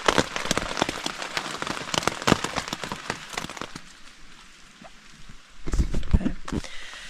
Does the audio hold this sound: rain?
yes